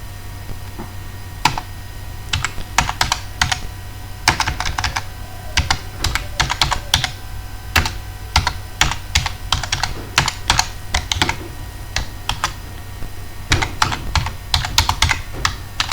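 Close, loud typing on a computer keyboard while writing microcontroller transmit code, bursts of crisp clicking keystrokes separated by short pauses.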